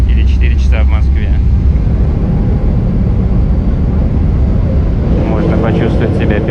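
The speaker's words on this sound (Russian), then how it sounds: "Все, взлетаем." An airliner taking off, heard from inside the cabin as a loud, steady low engine roar that fills the whole stretch, with people talking over it at the start and again near the end.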